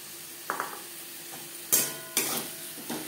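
Semolina is stirred with partly cooked vegetables in a pan over a low flame, giving a few separate scraping strokes of a spoon against the pan, soft and close, with quiet gaps between them.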